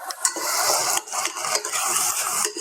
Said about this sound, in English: do you want to give it a stir while I do that?